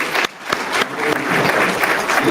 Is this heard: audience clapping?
yes